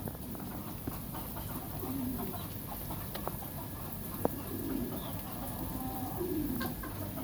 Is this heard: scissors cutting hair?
no